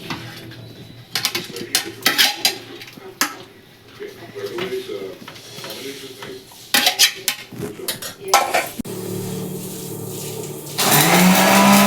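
A kitchen mixer grinder blends ingredients for majjige (spiced buttermilk), a loud steady whir that comes on near the end after clattering dishes, utensils and some talk.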